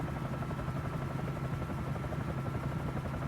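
Bell 47J Ranger helicopter in Microsoft Flight Simulator, its engine and rotor producing a steady low droning thrum with a rhythmic rotor pulse, constant and moderately loud with no voices.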